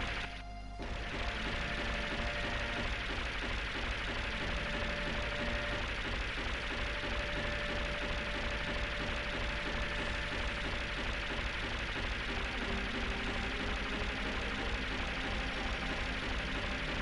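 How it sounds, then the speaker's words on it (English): A ship's engine from Final Fantasy VII chugs in a steady, repetitive low pulse at even volume for the whole stretch, with a brief clunk at the start. "That engine sound, gah, gah, gah, gah, gah. Not the most impressive sound, it has to be said."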